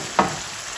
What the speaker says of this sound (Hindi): अब यहाँ पे मैं आलू ऐड कर दूंगी। और साथ ही शिमला मिर्च और टमाटर।